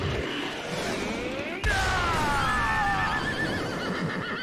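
A runaway horse in an animated scene lets out a long, loud, close whinny that falls in pitch, after a sudden crashing burst, over a rumbling background.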